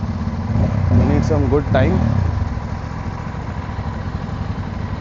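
Aprilia RS 457 motorcycles rev their throttles before a ride, with a couple of rising and falling revs over a low idling rumble while someone talks over them.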